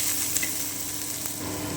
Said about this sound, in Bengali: এতে আমি কিছুটা কুচনো পেঁয়াজ দিয়ে দিচ্ছি। আমি একটু ভেজে নিচ্ছি।